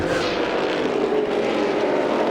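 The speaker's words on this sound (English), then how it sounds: "With these cars thundering through the bus stop here" Race cars at the 2006 SCCA Runoffs thundering through the bus stop chicane, a loud continuous engine roar that holds steady and close for the whole stretch.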